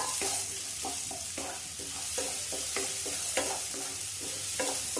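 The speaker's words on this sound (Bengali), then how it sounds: "চালটা একটুখানি নেড়ে নেব চালটা।" Gobindobhog rice is stirred in a pan for payesh, with rhythmic scraping strokes about twice a second over a soft sizzle.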